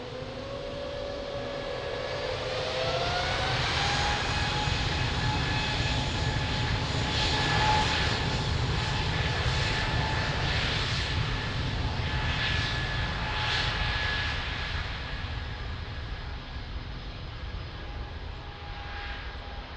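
An airliner departs runway 02 at Lisbon Airport on a takeoff run toward Brussels, its engines a loud, steady roar with a rising whine that holds strongly for the whole stretch, close and continuous, with no talk over it.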